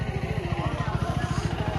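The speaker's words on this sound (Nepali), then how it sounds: "बाइक यही नै हो है, केटिएम इन्ड्युरो 390।" A KTM Enduro 390 motorcycle engine runs close by with a steady, rapid low pulsing throb, a voice faintly present over it.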